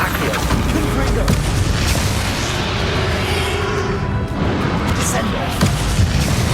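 Confringo blasting spell explosions during a Hogwarts Legacy boss fight, a continuous loud roar of booms and crashing impacts with a voice speaking over the dense battle noise.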